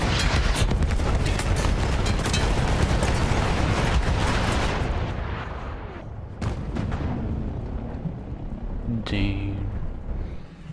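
Loud, dense battle explosions and rumbling blasts in the Battlefield 1 campaign, a continuous barrage that thins out partway through, with a short burst near the end and a voice speaking over the chaos.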